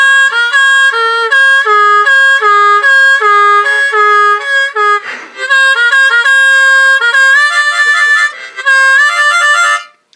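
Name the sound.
harmonica bend imitating a European siren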